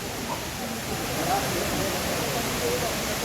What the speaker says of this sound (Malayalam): അങ്ങനെ ആദ്യം കാണുന്ന വാട്ടർഫാൾസാണിത്.